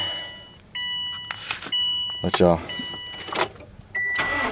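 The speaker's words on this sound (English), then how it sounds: "I'm gonna go ahead and start the car up here." A sports car fitted with an HHO kit starts up: electronic chime beeps ring out, then a brief starter crank and the engine catching, while someone talks over it.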